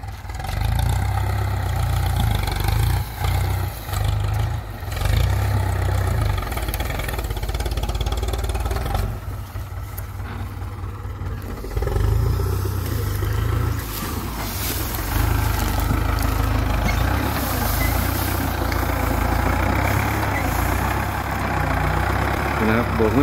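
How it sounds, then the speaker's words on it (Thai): A Ford 6610 tractor fitted as a sugarcane grab loader idles steadily at close range, a continuous low engine rumble running throughout with slight changes in tone. "วันนี้ครับพามาชมรถขีบฟอร์ดนะครับขีบไซส์6ล้อซิ่งนะครับ"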